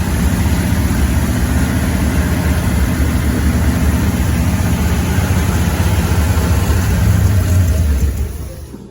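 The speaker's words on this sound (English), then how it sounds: "She finally fired up, and holy shit, did it blow." A 354 engine in a 1928 Ford Model A hot rod running loud and steady, a deep rough rumble close by that holds constant before cutting off at the end.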